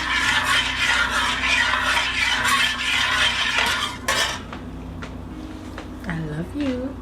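Ground venison chili mac being stirred in a pot, a steady scraping and mixing texture with light utensil clinks that fades after a few seconds, with a voice speaking under it.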